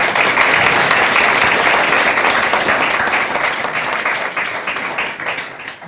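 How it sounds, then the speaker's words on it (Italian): Audience applause at an Italian election list presentation in Decollatura, a dense, sustained wash of many hands clapping that stays loud throughout and tapers slightly toward the end, with no one talking over it. "fatemi un applauso"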